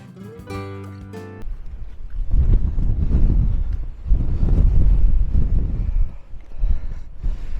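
Strong gusty wind buffets the microphone in heavy rumbling surges that rise and fall at Ramshaw Rocks in the UK, after a brief burst of music at the start.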